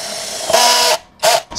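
A DongCheng DCJZ2040i13 cordless impact drill running in torque clutch mode at setting 10 gives two short, high whirring bursts, the first longer, with a brief pause between, close and fairly loud.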